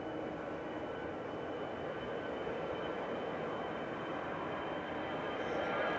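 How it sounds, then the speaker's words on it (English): An easyJet airliner departing Manchester Airport, a steady, broad jet roar at moderate distance, continuous throughout. "EasyJet departing to Palma de Mallorca with flight 7270"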